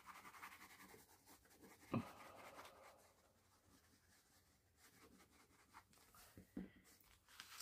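Faint scratch of a pen or pencil drawn along a ruler on paper while making a scrapbook page, a quiet rubbing line with a few small taps and handling noises around it.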